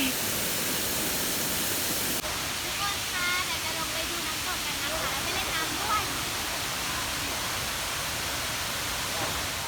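Water pours steadily at Huai Mae Khamin waterfall in Kanchanaburi, a dense continuous broadband rush that stays constant and fairly loud throughout, with a slightly brighter spray texture after the opening seconds.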